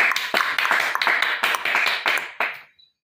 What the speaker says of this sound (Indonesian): Kita aplaus lagi.